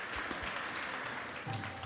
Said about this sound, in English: Let's give a round of applause to welcome all those visiting us.